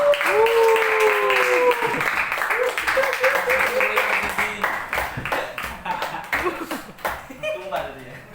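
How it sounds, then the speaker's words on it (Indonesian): A classroom claps together in a steady burst of applause for a student group that gradually thins out, with a voice speaking at the start and scattered laughter. "Tepuk tangan untuk kelompok 1."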